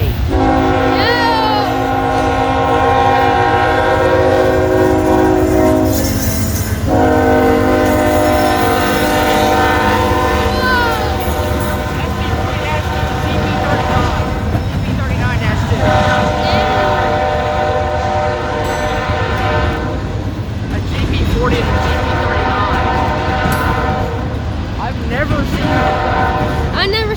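A CSX freight train led by a five-unit EMD locomotive lashup passes close and loud, its horn sounding in long repeated blasts over the steady rumble of the engines and rolling cars, while voices talk faintly underneath.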